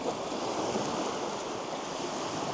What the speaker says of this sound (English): get a wave crashing through that